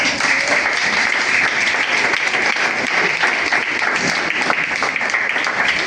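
A church congregation applauding, a dense, steady wall of clapping from many hands that stays loud and even throughout with no pauses.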